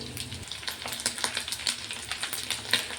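Fish roe fritters fry in hot oil in a pan, a busy crackling sizzle with sharp pops and spits scattered across a close, steady bed of frying noise.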